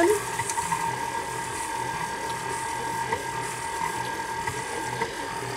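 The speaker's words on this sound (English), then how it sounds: "Lock my mixer in." A stand mixer bowl is locked into place before mixing an Oreo pudding cake, giving a brief ratcheting mechanical click near the start over a steady hum of kitchen background noise.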